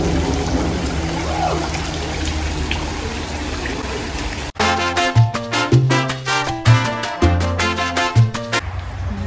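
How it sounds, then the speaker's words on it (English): A garden waterfall spilling into a pond with water plants, a steady splashing flow that runs alone at first and then continues beneath loud music-like tones for the second half. "This is a waterfall with a pond, and you can see the water plants growing inside."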